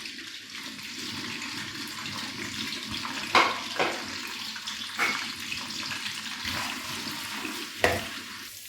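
Two medium onions, finely chopped, sizzle in hot oil in a kadai for a Karachi-style biryani. The frying hiss is steady and close, broken by a few sharp clinks and scrapes from stirring.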